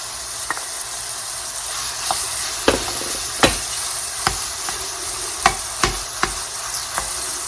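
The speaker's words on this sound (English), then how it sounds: "I'm going to go ahead on and add my onions now." Onions and thyme frying in a pan alongside ground pork give a continuous hiss, broken by a string of sharp clinks and scrapes from stirring, up close with no talk.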